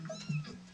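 A single short, high kitten meow from the video game Daily Kitten sounds close and fairly quiet.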